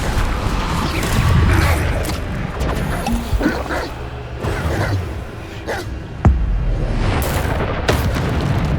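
A Descendo spell striking in the video game Hogwarts Legacy amid a dense spell fight, with booming thuds, crashes and crackling magical bursts piling up in loud succession and a sharp impact standing out near the end.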